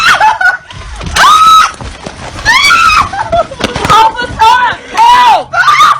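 A woman screams repeatedly in loud, rising bursts beside a car after gunshots during a shooting in Chicago, with shrieks separated by brief gaps.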